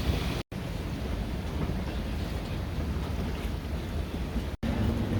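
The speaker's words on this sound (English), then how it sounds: "check out this wind. It's been like this for about 2 or 3 days." Strong wind roars steadily over a sailboat at Fort Myers Beach, Florida, a loud continuous buffeting rush of microphone wind noise with no speech.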